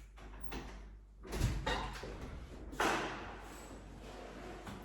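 A door is opened and closed in a home: a soft clunk, then a louder thud as it shuts, heard fairly close over quiet background.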